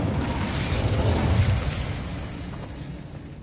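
A whooshing blast of the Incendio fire spell in Hogwarts Legacy, a loud roaring burst that swells then slowly fades, ending with a sharp click.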